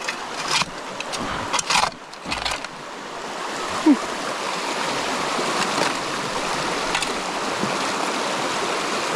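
Cold stream water pours at an odd angle into a gold sluice in Northern California, a steady broadband rush that runs the whole time with a few brief knocks and splashes early on.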